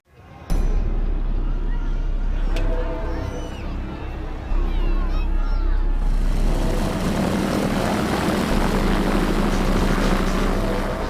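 Propeller aircraft of an aerobatic display team performing at an air show, a loud continuous engine drone that swells and shifts in pitch as the planes pass, filling the whole clip.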